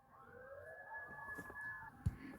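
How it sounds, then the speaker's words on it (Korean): An ambulance siren passing near a house, a steady wailing tone heard faintly from outside at a distance, holding for about two seconds before a sudden close thump. "선생님 집 근처에 앰뷸런스가 지나가나 봐"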